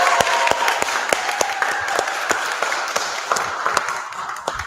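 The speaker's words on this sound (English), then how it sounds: "please give a big round of applause and thank you for the lovely Barbara and Louise" Sustained applause from a small audience at a Thursday church service with mediumship, thanking two mediums named Barbara and Louise; dense, steady hand-clapping with a few sharper individual claps standing out, fairly close and filling the room.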